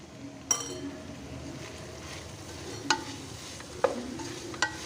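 Lemon juice and tomato sauce mixed in a pan for chicken noodles, a low steady sizzle with a few sharp metallic clinks of a spoon against the pan, close and otherwise quiet.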